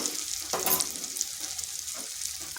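Ground cumin and coriander hit a hot pan with ginger and garlic while cooking mushrooms, giving a steady close sizzle with brief stirring scrapes and a louder spitting burst early on, no voices.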